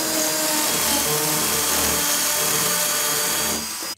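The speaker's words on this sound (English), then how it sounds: "we're safe to go all the way into this wall" Power drill boring a hole deep into an interior wall, a loud, continuous whining grind held close up for several seconds before cutting off abruptly at the end.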